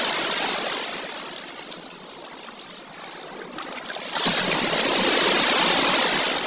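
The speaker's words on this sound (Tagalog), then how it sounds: "Galit na galit yung alon." Rough sea waves break near a grounded ship after a storm, making a continuous hissing wash that swells into a louder surge partway through.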